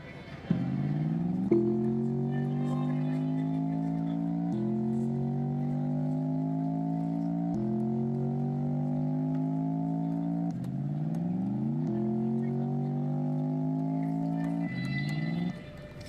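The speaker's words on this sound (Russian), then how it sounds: "как данный двигатель работает" A Tank V8 engine at a Shanghai 2025 show runs steadily close by, its hum climbing in pitch in repeated smooth sweeps, each rise dropping back, like a run of stepped revs.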